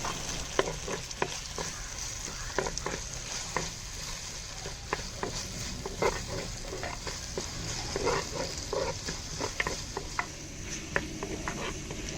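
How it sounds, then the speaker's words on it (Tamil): Two large finely chopped onions frying in a pan, a dense continuous sizzle with frequent spatula scrapes and stirring taps close by, steady throughout with no voices. "2 பெரிய வெங்காயத்தை நல்லா பொடிசை வெட்டி சேர்த்துக்கலாம். நல்ல நிறம் மாற வரைக்கும் நல்லா வதக்கிக்கிடலாம்."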